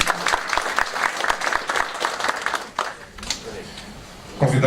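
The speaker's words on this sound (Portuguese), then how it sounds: "Senhoras e senhores, uma salva de palmas." Applause from the audience at an industry federation forum with Senate candidates fills the hall with dense, steady clapping, then fades toward the end as a voice begins.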